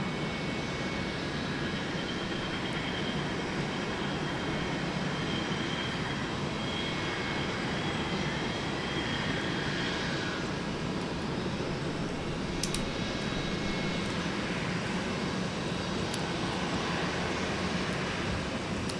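A Delta airliner taking off at Minneapolis–St. Paul Airport, a broad, steady jet engine roar that holds at constant loudness throughout, with faint higher whines above it.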